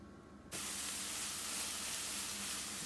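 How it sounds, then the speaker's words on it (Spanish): Red onion with green and red peppers sautéing in a pan: a loud, steady frying hiss bursts in after a brief quiet moment and holds evenly without speech. "lo vamos a sofreír unos 5 minutos"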